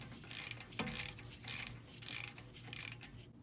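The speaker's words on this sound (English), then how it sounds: "Put the 2 bolts back for the caliper" Caliper bolts go back on the front wheel of a VW Karmann Ghia with a ratcheting wrench, giving four or five bursts of quick metallic clicking separated by short pauses.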